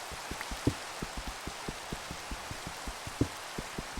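Minecraft rainfall, a gentle continuous hiss dotted with irregular drip taps, a couple of them slightly louder, low in volume and with no voices.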